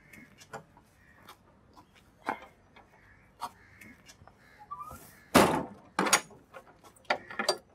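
A door opens and thuds in a quiet indoor home scene, with a few sharp knocks and clunks spaced apart, the loudest burst near the end followed by lighter taps.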